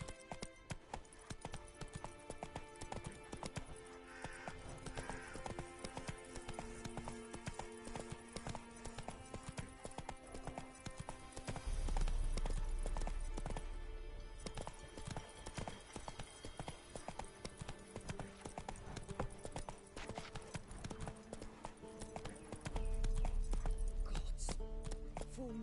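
A horse gallops in the video game The Witcher 3, a quick, steady clip-clop of hooves running continuously, with louder rumbling swells partway through and near the end.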